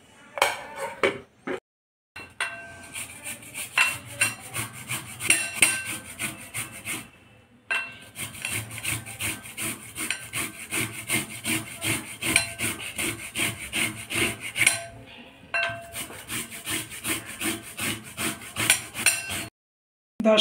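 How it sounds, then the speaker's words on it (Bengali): Beetroot is rubbed against a grater in rapid rhythmic rasping strokes, close and steady, broken by brief pauses and with no voices. "ততক্ষণ আমি বিটটাকে গ্রেট করে নেব।"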